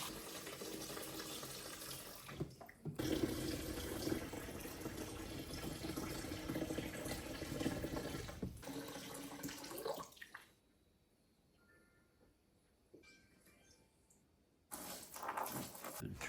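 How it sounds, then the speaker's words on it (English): Water poured in by hand, with no hose, to fill a paludarium tank set with sand and rock. A steady, full rush of splashing runs close for about ten seconds, stops briefly, then resumes. "Start adding water in."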